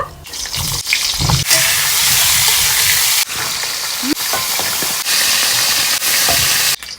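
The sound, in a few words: pointed gourd frying in hot oil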